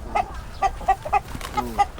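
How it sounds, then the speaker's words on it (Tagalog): Hens clucking in short, repeated bursts, about six calls over two seconds, close and fairly clear with a low background hum. "Takot, manok lang eh."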